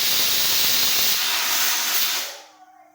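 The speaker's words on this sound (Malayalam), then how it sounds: "ഇപ്പം നമ്മുടെ കുക്കറിൽ 9ാമത്തെ വിസിലടിച്ച് കഴിഞ്ഞു" A pressure cooker full of beef curry lets out a loud, close, steady rush of hissing steam, which cuts off abruptly near the end and leaves quiet.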